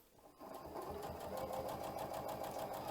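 Janome sewing machine running a rolled hem with a narrow hem foot: after a brief start, a fast, even mechanical whir and rhythmic needle chatter continues steadily, close and clear.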